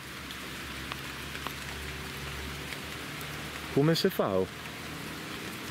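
Heavy rain falls outdoors in a hillside setting as a steady, even hiss throughout, with someone speaking briefly near the end over the downpour.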